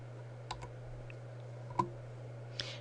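Computer keyboard keys are pressed in a few sparse, separate clicks, quiet and close, over a low steady electrical hum with no talking.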